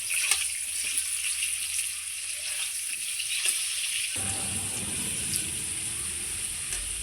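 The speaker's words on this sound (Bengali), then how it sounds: "আলুটা খুব সুন্দর লাল লাল করে ভেজে নেব" Potatoes fry in oil with salt and turmeric, a continuous close sizzle that thickens partway through as the pan is stirred, with no talking.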